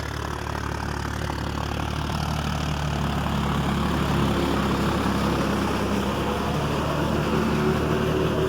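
A John Deere 5050D 4WD tractor drives a 6 ft 6 in, 72-blade rotavator at 1600 rpm while tilling a seedbed. The engine holds a loud, steady drone with a dense mechanical churn, and no one speaks.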